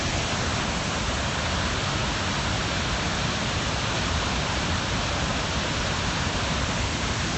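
Flood water rushing through opened dam gates in north Taiwan after Typhoon Dujuan, a dense, unbroken roar of torrent that stays loud and steady throughout.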